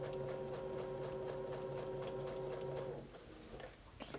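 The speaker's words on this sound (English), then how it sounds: "I start out by sewing on an anchor cloth first, and then guiding the fabric with my stiletto." A sewing machine runs steadily, stitching quilt fabric with an anchor cloth and a stiletto guiding it, a close, even mechanical whir that stops near the end, followed by a few light clicks and handling noises.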